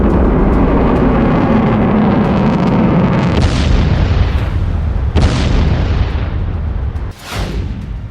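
Heavy explosions from Iranian missile strikes on Israel, with a loud continuous roar broken by several sharp booming blasts and crackling bursts spread over several seconds, one sudden impact near the end.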